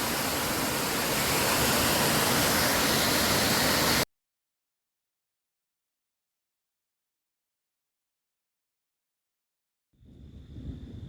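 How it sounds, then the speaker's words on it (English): Little Wilson Falls on the Appalachian Trail roars as a loud, steady wash of falling water for about four seconds, then cuts to silence before faint rushing returns. "The falls is Little Wilson."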